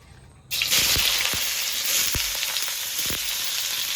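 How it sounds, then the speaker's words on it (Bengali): Onions drop into hot oil in a wok for chicken chow mein, setting off a sudden loud hissing sizzle that holds steady, broken by a few faint clicks and stirring taps. "তেলটা গরম হয়ে গেছে এবার পেঁয়াজগুলো দিয়ে দেবো"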